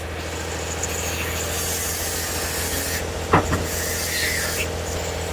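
A cutting tool takes off small weld spots on a vehicle cabin, giving a loud, continuous harsh grinding rasp with one brief, sharper surge partway through.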